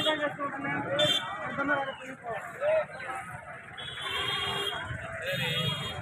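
Medium-sized rams bleating amid a crowded livestock market crowd, several short nasal calls rising over steady chatter and background bustle, with people talking throughout.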